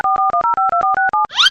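A telephone ringback tone plays while the caller waits for the other end to pick up: about eight short, evenly spaced electronic beeps with stepping pitches, loud and close, then a brief rising chirp at the end.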